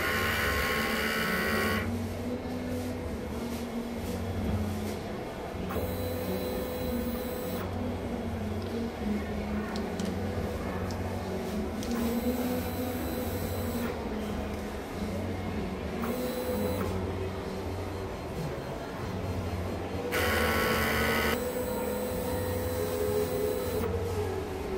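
A printer with an ink system runs a print head cleaning cycle, its motor whirring and grinding steadily at close range and broken by several bursts of louder hissing mechanical noise.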